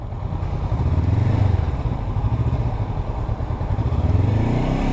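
A 2023 Honda SCL 500 motorcycle creeping along at near walking pace, with a loud, close, steady low engine thrum that swells and eases slightly, with faint clattering throughout.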